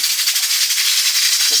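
A pot of cowfoot stew being stirred gives a loud, continuous steamy hiss with a faint pulsing texture and a brief low knock near the end.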